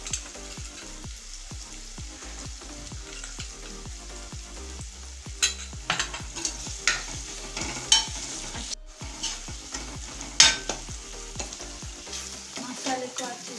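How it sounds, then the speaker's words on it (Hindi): Onion-garlic masala with coriander powder and turmeric sizzles in a pan for egg chutney while a spoon scrapes and stirs it in steady, repeated strokes. The frying hiss stays constant throughout. "मसाले को अच्छे से भून लेंगे।"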